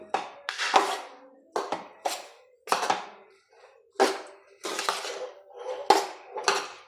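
Chopped raw mango being tossed and stirred with spices in a metal pan for Kerala mango pickle, giving repeated scraping clatters and clinks of spoon against vessel in close bursts with short pauses between.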